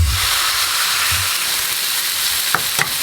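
Steak searing on a Cinder Grill heated to 450 degrees, a steady close broadband sizzle and hiss that runs the whole time, with a couple of faint clicks near the end and no talk.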